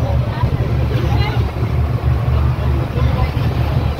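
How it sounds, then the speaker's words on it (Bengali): A passenger launch creeps slowly toward the jetty near Vivekananda Rock off Kanyakumari, its steady low engine drone rumbling continuously, with wind buffeting the microphone and water wash around it. "এই যে লঞ্চ আস্তে আস্তে ঘাটের দিকে এগোচ্ছে"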